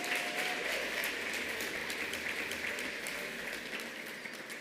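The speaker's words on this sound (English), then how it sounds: "I think she deserves a better round of applause" An audience at a corporate launch event applauds, a fairly distant, soft patter of many hands with a few sharper individual claps standing out, fading gradually toward the end.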